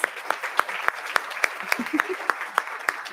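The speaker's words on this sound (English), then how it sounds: "So let's give everyone a round of applause." Applause from a small audience at a childcare policy event, with evenly spaced sharp claps standing out over a softer wash of clapping and some faint voices underneath.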